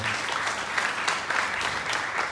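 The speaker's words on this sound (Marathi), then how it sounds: "त्या संपूर्ण पालकाचे देखील आपण एकदा जोरदार टाळ्या वाजवूया" A church congregation breaks into loud, sustained applause, many hands clapping densely and evenly throughout, close and filling the room.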